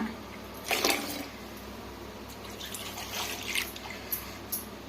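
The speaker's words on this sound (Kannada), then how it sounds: "ಸಾರು ತೊಳೆದು ನೀರು ಸೇರಿಸ್ಕೊಳ್ಳೋಣ" Water splashes and trickles into a pot of Kannada-style karimeen fish curry in a home kitchen, with a few brief louder gushes over a steady soft wash and no talking.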